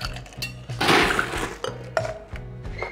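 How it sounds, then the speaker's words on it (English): Ice cubes are tossed into a double old fashioned glass, giving a burst of clattering clinks and thunks up close, with scattered knocks of glassware before and after. "Throw some ice into it."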